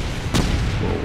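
A bomb detonating in the top-down shooter Gatling Gears: one short, sharp burst rising briefly above a constant loud wash of game noise, with no voices.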